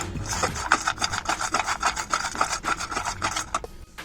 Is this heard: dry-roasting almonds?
yes